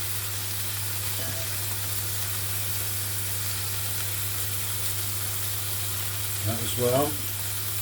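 Veal pieces frying in oil in a home kitchen, a steady, close, hissing sizzle that runs throughout, with a brief spoken remark near the end.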